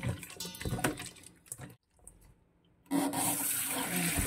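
Raw field frogs being kneaded and rinsed by hand under running water, splashing and sloshing with a brief quiet gap before a steady, close stream of water resumes.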